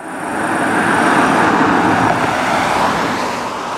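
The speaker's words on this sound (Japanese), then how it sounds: "加速については、トヨタのハイブリッドカーらしく、スーッと滑らかに、まるでリニアモーターカーのように速度を上げていきます。" A Toyota Prius 50-series hybrid car accelerates smoothly, a broad, steady road and drivetrain rush that swells a little and then eases, heard from inside the moving car with no voices.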